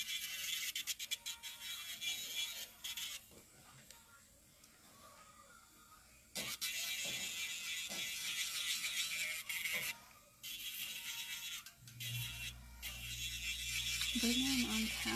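Electric nail drill with a pink diamond bit working on a gel manicure, a high whirring, grinding buzz that starts and stops in bursts, close up, with people talking in between.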